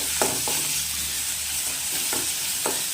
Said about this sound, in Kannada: ಹಸಿ ವಾಸನೆ ಏನಿದೆ ಅದೆಲ್ಲ ನೀಟಾಗಿ ಹೋಗೋ ತನಕನೂ ಕೂಡ ನೀಟಾಗಿ ಇದನ್ನು ಫ್ರೈ ಮಾಡ್ಕೊಳ್ಳಿ